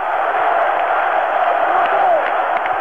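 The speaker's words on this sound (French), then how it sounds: "Entendez la foule qui l'acclame" Large crowd cheering and acclaiming General de Gaulle, a dense, steady roar of massed voices, band-limited and loud, heard as an old broadcast recording with little variation throughout.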